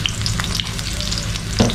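Small shallots fry in hot coconut oil in a pan, giving a dense, close crackling sizzle with light stirring and a brief louder pop of spatter near the end.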